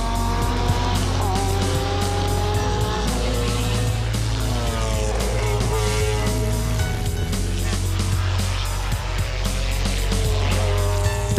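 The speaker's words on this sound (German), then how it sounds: "Während der ersten Runden fahren die Wagen zum Aufwärmen des Motors mit normalen Rennreifen." McLaren Formula One race cars on warm-up laps, engines screaming at high revs with repeated rising and falling gear-change sweeps, loud and continuous as they drive past.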